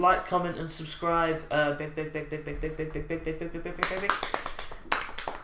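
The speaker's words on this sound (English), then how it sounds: "I can clap really fast." Fast hand clapping right beside the microphone on a podcast: a quick burst of close, crisp claps that comes after a stretch of spoken talk.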